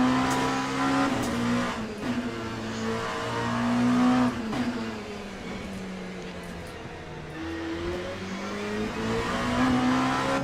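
Race car in the Le Mans Ultimate video game at Portimao, the engine droning loudly and dropping through downshifts under heavy braking, then rising again as it accelerates, with brief tire squeal.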